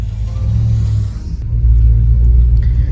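A 1964 Ford Falcon engine runs as the car drives, a steady, close, low rumble with a slight swell partway through and no voices over it.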